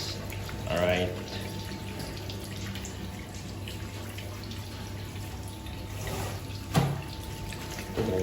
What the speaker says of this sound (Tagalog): maghuhugas muna tayo ng kamay natin